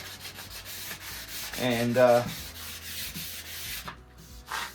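Wood is hand-sanded with 240 grit sandpaper for a fretless cigar box guitar, giving a soft, steady rubbing scrape in repeated strokes close by, with a louder pass in the middle.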